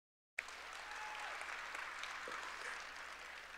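Audience applause at a university panel discussion on the peaceful transition of power, a steady wash of clapping that starts suddenly after a short silence and holds evenly at moderate volume from a sizeable crowd.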